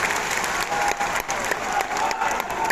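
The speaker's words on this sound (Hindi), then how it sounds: "जोरदार ताली बजाकर स्वागत कीजिए सर" An audience in a hall in Patna claps loudly and steadily to welcome BJP national president Nitin Naveen, a dense, continuous round of applause with some crowd noise mixed in.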